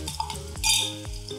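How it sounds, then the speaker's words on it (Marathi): Coconut, garlic and coriander masala paste being sautéed in a pan, with a soft sizzle under a few close, distinct scrapes and clinks of a spoon against the pan. "आता हे छान परतून घेऊयात मिनिटभर"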